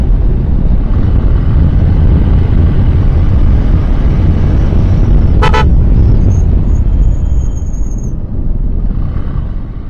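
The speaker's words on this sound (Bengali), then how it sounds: "এই বাঁকে অবশ্যই হর্ন ইউজ করতে হবে" A vehicle horn gives one short, sharp honk at a bend on a hill road between Rangamati and Rajosthali, cutting through loud, steady wind and road roar, followed by a fainter tone.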